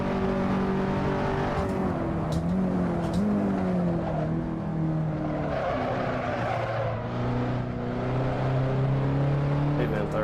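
Race cars in the Assetto Corsa sim racing game, engines droning and shifting pitch continuously while tires slide, loud and steady throughout with speech underneath.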